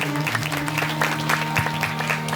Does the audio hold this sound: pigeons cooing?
no